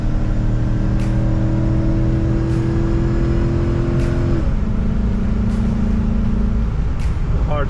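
An old, high-hour auction vehicle accelerating, its engine droning loudly and steadily before the pitch drops at a hard gear shift, then settling into a lower hum.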